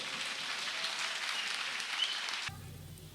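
Audience applause at an evening gathering, a dense steady clapping that carries on for a couple of seconds and then stops abruptly, leaving quiet room tone.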